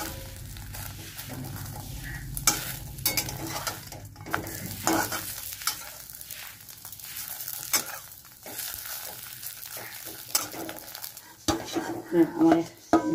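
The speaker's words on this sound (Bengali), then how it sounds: "এবার এই ডিমটাকে আর্ধেক করে ভাজবো" A two-egg omelet fries in a pan with a steady soft sizzle, broken by scraping, stirring and clinks of a utensil as it is folded in half, with brief louder knocks near the end.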